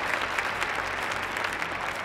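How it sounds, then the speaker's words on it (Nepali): A live studio audience at a Nepal Idol Season 5 gala round claps loudly and steadily from start to finish, a dense, even wash of many hands with no pauses. "यो जोरदार ताली चाहिँ हाम्रा टप 14 कन्टेस्टेन्टहरुको लागि"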